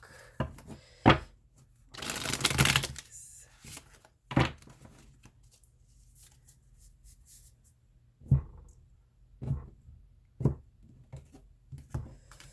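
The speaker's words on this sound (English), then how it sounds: "let's do one more shuffle" Tarot card shuffling in a few separate bursts, with a longer riffle near the start and short soft flicks later, close and fairly quiet.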